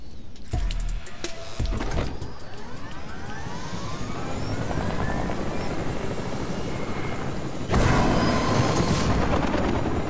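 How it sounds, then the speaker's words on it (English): Helicopter in a Deadpool video game, a loud sustained rotor chop and engine roar with Doppler-like sweeping tones, close and continuous, swelling louder toward the end. "Tell me there's a helicopter."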